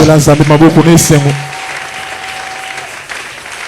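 A church congregation applauding and cheering the Lord, clapping and calling out together in a burst that fades after about a second and a half into quieter room tone.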